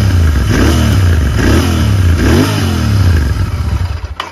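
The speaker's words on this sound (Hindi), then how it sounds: "अब ये गियर में ये इसकी स्टॉक साउंड है" A Royal Enfield Continental GT650 2022 BS6 motorcycle on its stock exhaust, riding in gear with a deep, loud rumble that rises and falls in repeated revving swells, close and alone, then fading slightly at the end.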